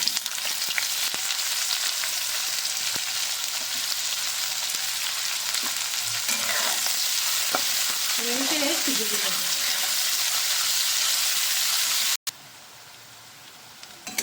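Continuous sizzling of frying in oil, fairly soft and steady, with occasional clinks of stirring and a brief murmur in the background.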